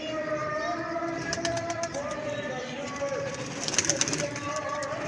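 A paired male and female pigeon, the hen red-eyed, coo in soft repeated phrases close by, with a voice talking faintly underneath and light rustling.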